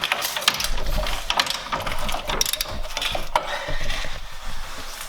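Rapid ratcheting clicks from a hand ratchet working loose a rusted, corroded control arm bolt underneath a New Edge Mustang, steady and close for the whole stretch with no talking.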